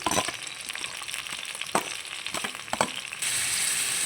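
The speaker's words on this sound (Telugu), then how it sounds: "ఆయిల్ తగినంత వేసుకుందాం ఆనియన్ పచ్చిమిర్చి వేద్దాం" Onion and green chilli hit hot oil in a pan, giving a steady sizzle broken by a few sharp crackles and stirring clatters, then a louder, denser frying hiss near the end.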